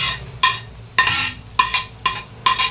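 Chopped onion goes into a pan of sautéing garlic for a Filipino corn soup, heard as about six sharp scraping stirs against the pan in an uneven rhythm over a soft sizzle, close and loud with no talking.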